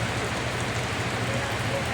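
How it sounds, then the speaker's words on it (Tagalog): Heavy rain pours down in Metro Manila, a steady dense hiss of falling water that stays constant and close with no clear voices over it. "lakas ng ulan"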